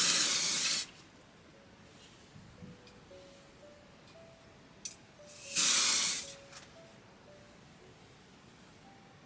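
Hair spray from an aerosol can, two loud hissing bursts separated by a quiet stretch with faint rustling, close by.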